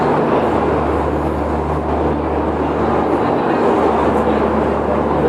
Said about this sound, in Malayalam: ഓ എന്താ ഒച്ച മോനെ എൻജിനല്ലേ ഇത്